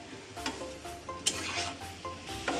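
Okra with split chillies, tomato and ginger sizzles in a pan as it is stirred, with a continuous frying hiss and repeated scraping strokes of the spoon. Close and clear, with no voices.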